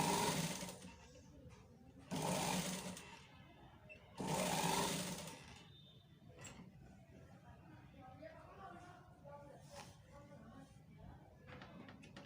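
Sewing machine stitching a cut neckline on fabric, with three loud bursts of rapid mechanical whirring separated by pauses, then quieter handling noises, while someone talks throughout.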